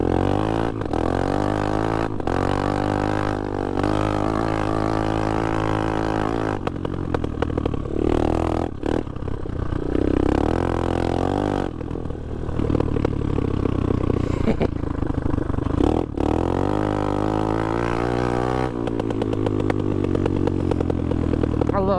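A 2020 Honda Grom motorcycle with a small engine, known to have problems and leak some gas, revs loudly and continuously up close, with rising and falling throttle surges and crackling exhaust pops.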